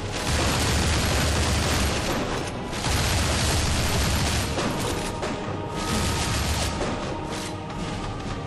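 Grenade blasts in the video game Shank, a dense, continuous barrage of loud booming explosions and crashing bursts, with short dips between volleys, alone and close throughout.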